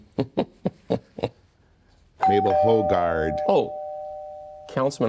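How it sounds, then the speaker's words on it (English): A home doorbell rings once with a sustained chime tone, clear and close, with people talking just before and right after it. "I'm sorry, that's the doorbell."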